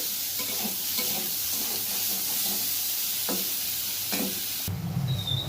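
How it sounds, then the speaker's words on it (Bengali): Boiled young jackfruit fries in oil with a continuous close hiss and sizzle, broken by occasional scraping stirs, before the sizzle shifts in tone for the last second. "শুধু একটু তেলে একটু ভালো করে ভেজে নিতে হবে এঁচোড়টা।"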